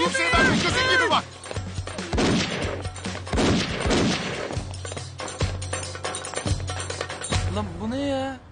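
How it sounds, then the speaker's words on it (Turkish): Gunshots fired at a house in a Turkish neighbourhood drama scene: a rapid burst of loud, sharp cracks and thuds repeating through most of the passage, mixed with shouting voices and music, ending in a rising cry. "Silah sesleri duydum."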